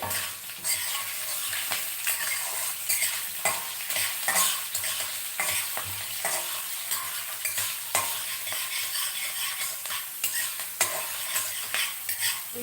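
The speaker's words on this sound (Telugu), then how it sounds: "పోపు వేగుతూ ఉండగానే" Tempering spices for a green gram curry sizzle and crackle in hot oil, with a spoon stirring and scraping the pan now and then; no one speaks.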